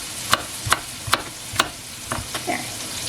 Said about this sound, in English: I'm just gonna cut some onion while my bacon is rendering